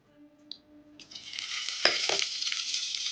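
Curry leaves dropped into hot oil with cumin, fenugreek and a broken red chilli break into a loud, steady crackling sizzle that starts abruptly after a quiet moment, with a couple of stirring scrapes in the pan.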